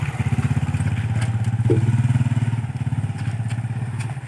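Motorcycle engine at an illegal street race, a loud, steady rapid chug close by that swells briefly midway, with light clatter and no talk over it.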